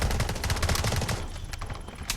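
Rapid bursts of gunfire in the Delta Force shooter game, dense and loud through the first half, then thinning to scattered shots with a sharp crack near the end.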